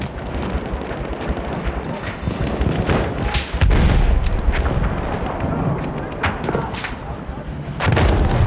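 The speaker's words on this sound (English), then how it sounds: "An anti-tank gun!" Anti-tank gun fire in Battlefield 1 on the Oil of Empires map, heavy booms and gunfire crashing through a loud, continuous battlefield din with repeated impacts and no pauses.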